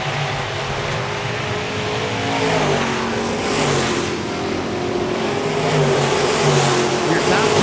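IronMan B-Modified race cars at Park Jefferson Speedway roar steadily as a pack, a loud, continuous engine drone with swells as cars pass and rev through the turns.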